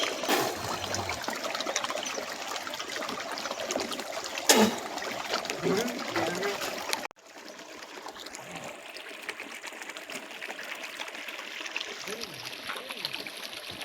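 Water splashes and trickles steadily as it is poured over a cap worn by a man bathing outdoors at a stream, with a continuous wet gush that drops to a softer flow midway.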